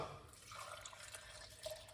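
Water pours from a container into a blender for carrot dumplings, a soft, continuous trickle and splash heard close and faint throughout.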